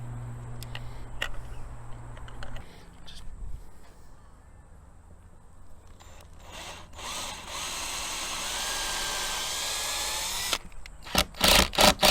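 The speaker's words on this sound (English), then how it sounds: "Now we can just drill a couple of holes" Power drill bores screw holes in wood for a large rustic clock, starting after quiet handling noises with a steady, loud whirring run, then short stuttering bursts as the bit finishes.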